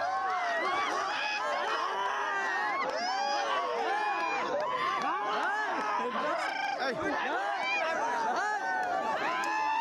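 Large gathering of spectators at a traditional buffalo fight in Assam, a dense, continuous crowd babble of many voices shouting and calling out at once, loud and steady throughout with no pauses.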